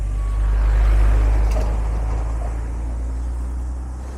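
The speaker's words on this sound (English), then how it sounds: "I'll let this truck through." A truck passes on a New Zealand road with a loud, deep rumble that swells to a peak about a second in and then slowly fades as it moves away.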